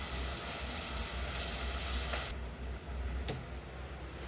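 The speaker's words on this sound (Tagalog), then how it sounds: "So ayun, kumukulo na." A constant bubbling, hissing roar of noodle water boiling hard in a pot, close and loud, with a brief clink partway through.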